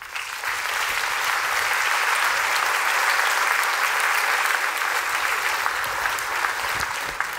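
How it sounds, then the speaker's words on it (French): An audience at a New Year ceremony breaks into sustained applause, a dense, even wash of many hands clapping that holds steady and loud throughout. "je vous demande de les applaudir"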